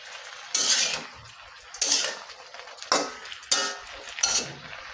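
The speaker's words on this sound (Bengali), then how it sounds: "আমি এটা ভালোভাবে নাড়াচাড়া করে নিচ্ছি।" Vegetables are tossed in a new wok, with five distinct bursts of a metal spatula scraping and clanking against the pan at a loose, uneven rhythm, close and fairly loud with quiet gaps between.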